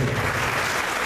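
A church congregation claps together in a short, steady burst of applause filling the room, with no voices over it.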